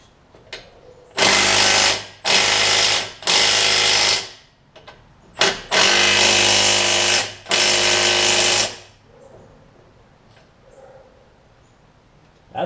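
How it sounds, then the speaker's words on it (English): Bursts of a power tool, likely an impact or air ratchet, work on a front suspension bolt of a 2002 Toyota Camry: four loud, sustained whirring runs with short gaps, then quiet shop room tone. "I turn my ratchet up there."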